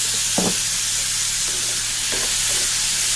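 Chickpeas with turmeric frying in a pan on a gas stove give a constant loud sizzle and hiss, with a few brief scrapes of a spoon stirring.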